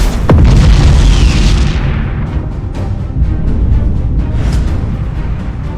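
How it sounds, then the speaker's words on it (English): A huge explosion booms as an enemy defense platform is destroyed in the space battle game Battlefleet Gothic Armada 2, opening with a sharp blast and rolling into a loud, sustained rumble that lasts several seconds. "Enemy defense platform destroyed!"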